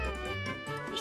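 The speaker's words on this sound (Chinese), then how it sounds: "小猫把网兜给咬破，" A cartoon kitten meows in a short, bright, high-pitched cry lasting about a second, loud and close, with a second rising mew near the end.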